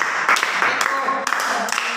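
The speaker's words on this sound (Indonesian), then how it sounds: "Kita kasih tepuk tangan" A classroom applauds during a teaching-practice lesson, a steady wash of many hands clapping for about two seconds, with voices mixed in.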